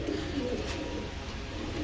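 A pair of white Sirazi pigeons coo nearby in soft, low, throaty murmurs that run on through a faint room hum.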